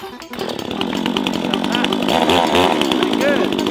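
XtremePower gasoline 2-stroke chainsaw starting up and running, a loud, close buzzing engine that catches after an initial pull and then revs steadily with rising whine.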